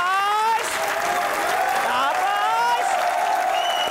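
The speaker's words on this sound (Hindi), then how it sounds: "आपकी भरपूर तालियों में" Audience applause greeting a guest on a Pakistani comedy talk show, steady full clapping throughout with music and cheering voices over it.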